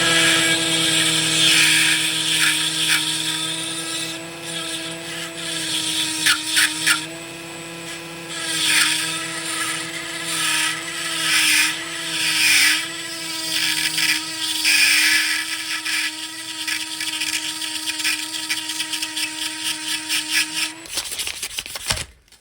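Rotary tool fitted with a blunt diamond burr grinding a Kawasaki ZX9R clutch part, a loud, continuous high-pitched whine with shifting grinding rasp as the burr bites, stopping abruptly near the end.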